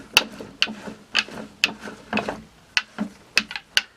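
A plastic water filter housing being hand-tightened, giving a series of sharp clicking, ratcheting snaps at irregular intervals, close and distinct with no talk.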